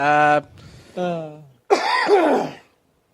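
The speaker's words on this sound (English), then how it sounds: "Cough and a half." A couple of short vocal bursts followed by a harsh throat-clearing cough, close and fairly quiet, with a brief pause after, during a podcast conversation.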